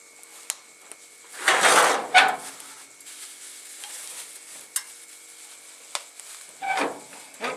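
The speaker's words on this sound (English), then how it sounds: "Always sounds better when it's sizzling." Meat and sausages sizzle and crackle on a wood-burning camping stove in two loud bursts, first a long hiss and later a shorter one, with faint clinks and quiet kitchen noise between.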